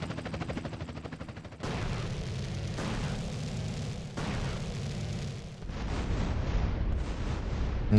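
Dense, continuous bursts of gunfire and booming blasts in GTA San Andreas, loud and sustained, shifting in character every second or two without a pause.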